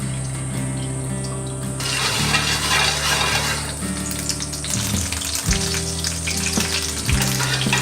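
Butter foams and sizzles in a hot frying pan for a dessert recipe, giving a steady, loud crackling fry throughout with a few soft knocks and shifts near the end.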